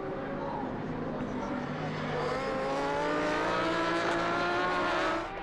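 Superbike race at Le Mans with BMW and Ducati motorcycles, engines droning and rising in pitch as bikes pass at speed, a steady loud roar from start to end, with a commentator talking over it.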